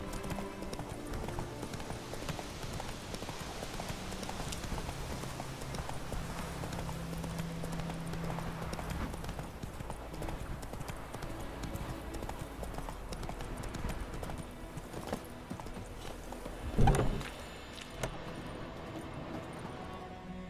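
Horse hooves clip-clop steadily and faintly in The Witcher 3 video game, a soft, even gallop under dense game ambience. A brief louder thump comes near the end.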